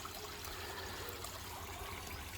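Water trickles steadily through the faceplate of a koi pond twin reverse osmosis filter fed from household mains via sediment and carbon stages, a continuous, fairly faint wash with no talk over it.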